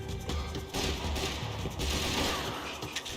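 Rapid gunfire from a Max Payne 3 shootout, dense bursts of shots blending into a continuous loud clatter with booming impacts throughout.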